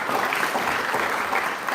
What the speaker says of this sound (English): please put your hands together for yourselves again.